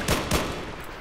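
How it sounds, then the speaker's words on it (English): Gunfire in the video game Battlefield 3, two quick close shots in rapid succession followed by a fading echo, heard alone without speech. "I shot it and nothing happened."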